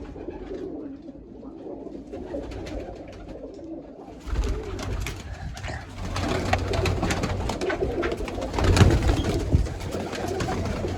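Pigeons coo softly and repeatedly over a steady outdoor background, with louder rustling and movement noises joining midway.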